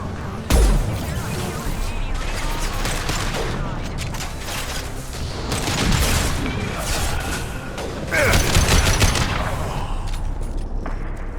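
A sustained barrage of gunfire and booming blasts rolls in from the coast in the sci-fi shooter Mass Effect 2, loud and dense, with scattered heavier impacts throughout and voices speaking over the battle.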